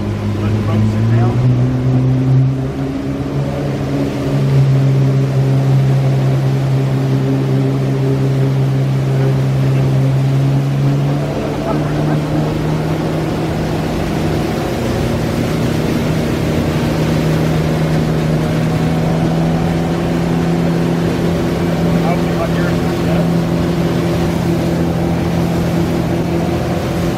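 A motorboat engine runs steadily and loudly throughout, its droning pitch dropping slightly as the hull settles down off plane, with wind and water noise beneath it.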